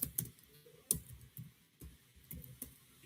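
Typing on a computer keyboard while entering an item into a web app: quiet, irregular key clicks and taps scattered throughout, close by with no talking.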